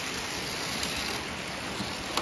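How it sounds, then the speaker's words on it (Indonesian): Heavy rain pouring outside an indoor toy-car play arena, heard as a dense, steady hiss of falling water with no talk, constant and even throughout. "Hujannya juga sudah mulai deras teman-teman di luar sana."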